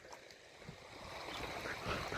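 Water from recent heavy monsoon rain flows down from higher ground into a stream at Vaghave, Dapoli in Konkan, making a steady rushing wash that grows slightly louder toward the end, with no voices.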